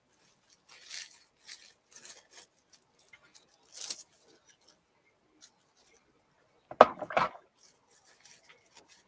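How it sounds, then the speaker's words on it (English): Scissors snip through craft paper in a few short, sparse bursts, close and quiet, separated by gaps of near silence with small handling taps and rustles. "Okay, so scissors."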